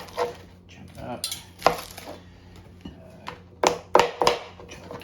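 Onion being chunked with a knife on a cutting board: several sharp, close chops in an uneven rhythm, with soft clatter and handling noise between the cuts.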